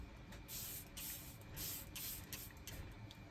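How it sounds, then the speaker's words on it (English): Several quick, airy spritzes of setting spray onto a face, hissing in short bursts close by with brief gaps between them. "I'm gonna take this and spray my face down real quick."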